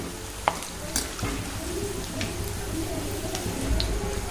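Bhaji fritters deep-frying in hot oil until golden, a steady close sizzle and bubble with a few light clicks of stirring or utensil taps, no voice heard.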